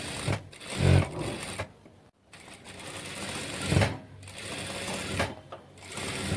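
A sewing machine stitches a silk saree frock, its rapid mechanical whirr swelling and easing in uneven runs with brief stops, while someone talks quietly beneath it.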